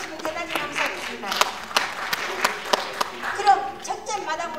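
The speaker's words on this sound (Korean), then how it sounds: "큰 박수로 환영해 주시면 대단히 감사하겠습니다." Audience applause welcoming guests at the 12th Jeonnam Cultural Center Day ceremony in a Yeonggwang arts hall, a steady mid-level patter of clapping with a few sharper individual claps, and voices murmuring underneath.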